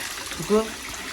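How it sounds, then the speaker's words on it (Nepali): Water from a jug splashes briefly at close range during a bath, a short pour heard once over faint background noise. "त्यो दुई जग पानी हाल्दैछु"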